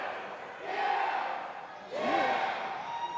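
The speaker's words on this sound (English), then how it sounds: "Listen to the crowd trying to will on Crowbar" A wrestling crowd at a Battle in the Borough match roars in two swelling waves, urging on the wrestler Crowbar. The noise is broad and fairly close, with voices shouting within it.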